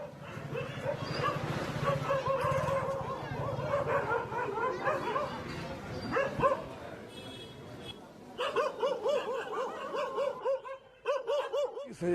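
Stray dogs on the streets of Haridwar bark, yip and whimper repeatedly at close range, with voices mixed in.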